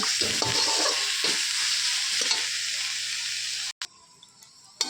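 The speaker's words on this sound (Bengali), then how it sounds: "এখন দিয়ে আমি ভালো করে আরেকটু নেড়ে চেড়ে নেবো। কমসে কম 2 থেকে 3 মিনিট একটু আমি ভেজে নেব।" Greens with lentil dumplings fry in a pan with a steady, close sizzle while being stirred, the hiss briefly cutting out near the end before resuming faintly.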